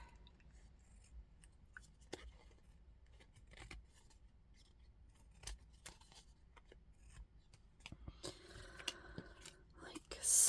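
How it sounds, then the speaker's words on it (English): Large scissors trimming the back edge of an artist trading card during a craft session, giving a few quiet, crisp snips and rustles close by, with faint paper handling in between. "Get the big scissors, trim off the back."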